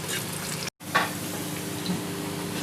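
Whole spices and butter sizzle in a pan with a soft, steady close crackle. A brief dropout comes early, followed by a small flare of hissing.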